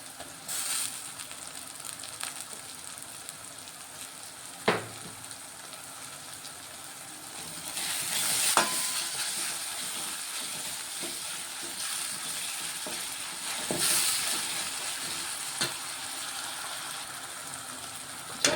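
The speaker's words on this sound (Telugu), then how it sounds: "ఆనియన్ ఫ్రై అవుతున్నాయి ఇప్పుడు మేము మెంతికూర వేసుకుంటున్నాము" Onions fry in a pan with fenugreek leaves added in a home kitchen, a soft steady sizzle with occasional sharp knocks and clatters of a utensil, getting a little louder partway through, with no talking.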